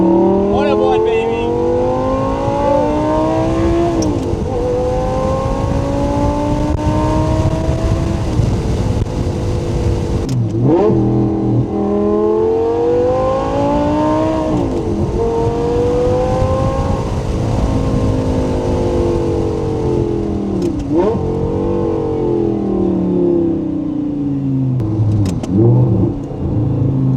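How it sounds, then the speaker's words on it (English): Audi R8 V10 with a gated manual shifter and Valvetronic exhaust revving hard, loud rising and falling engine sweeps repeating across the clip, each climb dropping back before building again, with voices now and then underneath. "So this is one of one, world's only Valvetronic True F1 gated R8"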